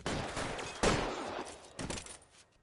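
L.A. Noire gunfight: a few loud, close shotgun-like blasts and rapid bursts of gunshots, each cracking sharply then decaying, spaced across the scene with quieter gaps between.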